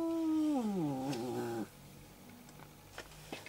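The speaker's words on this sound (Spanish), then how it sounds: "Está el gato insoportable." A cat meows indoors, one long loud falling meow close up, followed by quieter faint sounds and small clicks.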